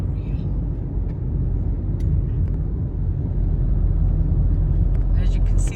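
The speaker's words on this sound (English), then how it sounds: "Captain Roy is driving on the right-hand side of the road with a manual using his right hand" A car with a manual gearbox, driven on the right-hand side, climbs a coastal switchback road on the Turquoise Coast of Turkey, giving a steady, close low engine and road rumble that runs unbroken throughout.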